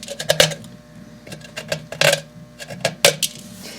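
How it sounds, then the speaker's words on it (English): A craft knife cuts and scrapes at a hollow plaster egg shell in a run of close, sharp clicks and crunches, irregular bursts with brief pauses between. "So carefully cut away with your craft knife"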